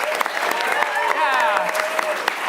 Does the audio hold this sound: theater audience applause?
yes